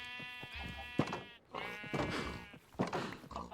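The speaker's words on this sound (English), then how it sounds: "There's your other sheep." Sheep in Minecraft bleat several times, a few wavering calls spread across a few seconds at moderate volume with no talk over them.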